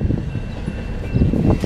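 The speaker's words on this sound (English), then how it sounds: "I get stuck by a train at the one track that I never get stuck at" A train rolls past a railroad crossing as a low, continuous rumble with a faint rattle, heard from close by for under two seconds without talking.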